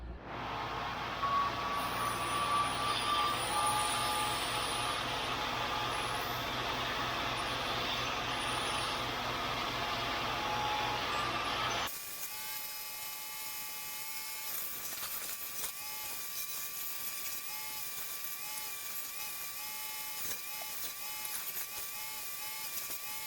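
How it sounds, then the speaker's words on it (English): Belt grinder shaping metal wind chime pieces: a loud, steady whine and abrasive hum for about twelve seconds, then a quieter, rougher grinding texture with tonal ringing for the rest. "We'll go get these on the belt grinder now and finish the shape"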